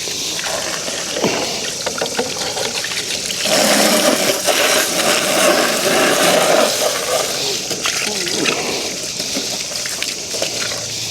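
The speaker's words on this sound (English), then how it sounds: "I'm gonna rinse this off quick." Water splashes and streams over a WYBOT C2 robotic pool cleaner as it gets rinsed, a loud, continuous rushing spray that swells in the middle and then eases.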